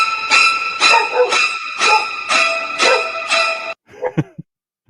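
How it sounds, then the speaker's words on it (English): A dog barks in a rapid run of sharp, high yips with whimpering between them, close and loud, then ends in a few short whines. "your dog is freaking out about the circle"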